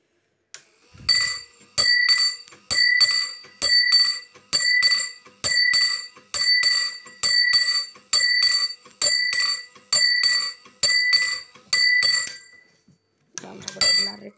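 A small bell is struck about a dozen times in a steady rhythm, each bright metallic ding ringing briefly before the next, close and clear, ending with a short clatter.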